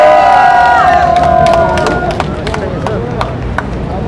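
A large crowd at an outdoor political rally cheers loudly, with a sustained roar, high shouts and scattered whistles fading slightly as scattered claps and voices continue.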